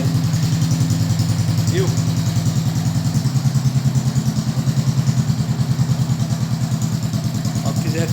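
A Suzuki Burgman 125 scooter fitted with a sport exhaust idles with a steady, rapid throbbing putter heard close, while someone talks briefly over it.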